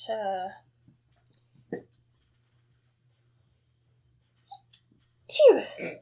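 A single short sneeze bursts out near the end, after a stretch of quiet broken by a few soft sounds; a voice is heard briefly at the start.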